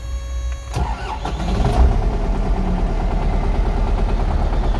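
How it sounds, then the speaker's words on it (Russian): A fully restored MTZ-82 tractor with about 3,790 engine hours cranks briefly and catches, then settles into a steady, loud, rumbling idle close by. "Давайте заведем трактор."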